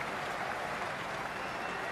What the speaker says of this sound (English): standing and applauding a magnificent display of batting